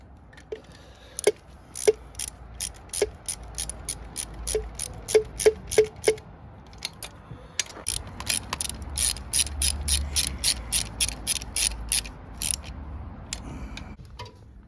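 Cylinder head nuts being tightened on a Honda CB400 Four motorcycle during a restoration: a steady run of sharp, close ratchet clicks in quick bursts, with short pauses between runs.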